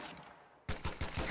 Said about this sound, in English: grenade going off there